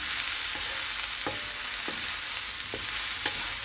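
Pork and leek frying in a pan, a bright steady sizzle with a few soft scraping stirs at intervals, close and loud, no talking.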